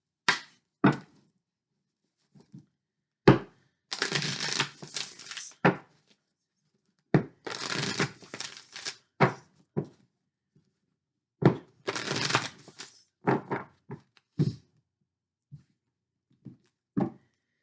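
Tarot cards being shuffled by hand, with repeated bursts of riffling and soft flicking taps separated by pauses, close and fairly quiet with no talking.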